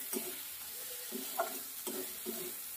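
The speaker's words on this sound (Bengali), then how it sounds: "দেখো মশলাটা এবার সুন্দর করে কষানো হয়ে গেছে।" A spice masala is fried in oil for a Bombay duck dish, faint sizzling beneath soft, rhythmic scrapes of a spatula stirring the paste in the pan.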